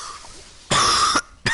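A game streamer coughs twice, a harsh close cough followed by a shorter second burst, with quiet game sound in the background.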